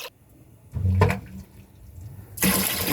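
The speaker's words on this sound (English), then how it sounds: "water's coming out and it's filling up the sump" Water gushes from a pump into the sump of a 220-gallon aquarium, a short rushing splash that starts, eases off, then comes back strong, fairly close.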